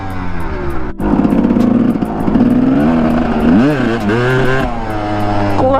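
A Kawasaki KDX dirt bike engine revs loudly and close, its pitch climbing and falling through repeated throttle blips as the clutch is worked, steady and continuous throughout.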